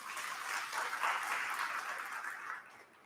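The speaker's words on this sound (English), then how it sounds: "Again, another round of applause to our dear Director General." Applause from the audience at the opening ceremony of a skills experts' meeting in Manila, broad and steady, fading near the end.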